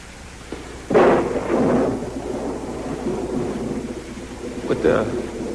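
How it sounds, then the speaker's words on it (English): Thunder rolls through a thunderstorm with steady rain, a loud rumble early and another swell near the end over a constant wash of rainfall. "Looks like the storm's getting worse."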